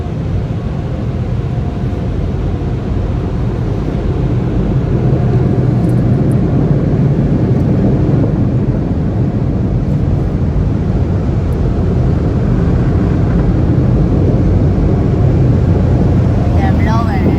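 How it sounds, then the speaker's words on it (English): A car wash blower roars loud and continuous while drying a car, a dense steady rush of air close by with no break over the whole stretch. "That's the blower."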